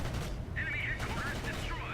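Aircraft machine gun fire in a flight combat game, heard as a rattling burst over a steady engine drone, with a voice talking on top.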